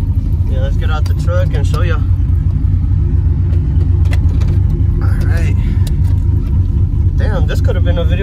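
A truck with a cammed 5.3 engine and a new exhaust rumbles at a steady, deep idle close by, while someone talks over the continuous low drone.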